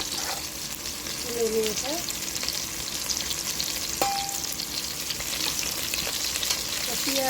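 Onions and whole garlic cloves fry in plenty of oil with a loud, continuous sizzle and crackle, close up, while a few words are spoken briefly over it.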